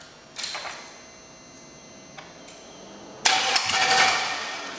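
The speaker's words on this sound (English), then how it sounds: "but Leon wants to see if it will idle" An LS V8 swapped into a Miata-based kart cranks and catches in two short bursts. The first comes early and the second, louder one near the end, over a quiet mechanical background.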